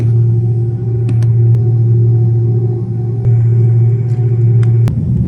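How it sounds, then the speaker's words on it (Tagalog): A steady, loud low engine drone and rumble fills the cabin of a China Airlines airliner as it takes off, with a few faint clicks and knocks scattered on top. "Nagti-take off na ang eroplano."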